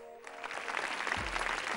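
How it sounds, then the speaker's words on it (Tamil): A studio audience at a Tamil television game show breaks into brief, close clapping that builds over a second or two. "நல்ல கைத்தட்டல்"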